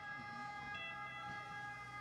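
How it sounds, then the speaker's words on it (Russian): A steady, fairly faint ambulance siren sounds in the distance in Catania, Sicily, holding a sustained wailing tone over quiet outdoor background. "А, это скорая. Звук такой же, как у полиции,"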